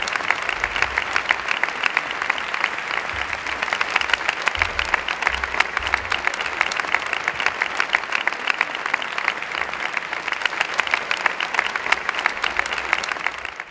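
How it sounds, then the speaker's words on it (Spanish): Steady, sustained audience applause fills an award ceremony for the Real Zaragoza Foundation, a dense wash of many hands clapping evenly and loudly without a break for nearly fourteen seconds. "Un aplauso por los premios."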